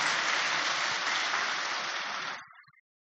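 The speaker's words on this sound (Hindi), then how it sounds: "एक बार तालियां बजाओ ना जरा, बाबा ने हमें अच्छी तरह से ये विधि बताई है।" Audience applause at a spiritual gathering, a dense burst of clapping from a crowd lasting about two and a half seconds before quickly fading out, with no talk over it.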